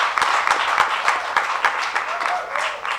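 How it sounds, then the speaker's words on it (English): Sustained applause from a crowd, steady dense clapping that fills the whole stretch at a fairly even level. "So a big round of applause for yourselves for being part of this event."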